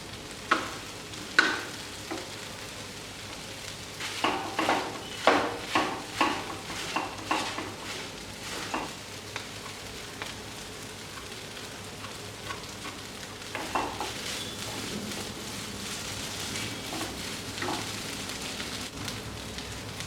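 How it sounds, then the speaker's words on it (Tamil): Egg kothu bread frying in a pan while it is stirred over and over, with quick scraping strokes clustered early, then a steady sizzle that carries on with occasional stirs and no talking. "நல்லா கிண்டி விட்டுக்கிட்டே இருக்கணும் அந்த முட்டையெல்லாம் இன்னும் ஃபுல்லாக வேக வேகிற அளவுக்கு நல்லா கிண்டி விட்டுக்கிட்டே இருக்கணும்"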